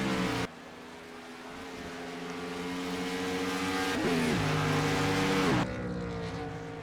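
A race car engine at full throttle around Road America during a HORL Friday night heat, a steady high-pitched drone that climbs, dips for a gear change and falls away abruptly, with no voices.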